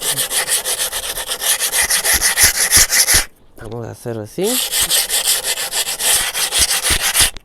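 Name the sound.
sanding cement pot with coarse sandpaper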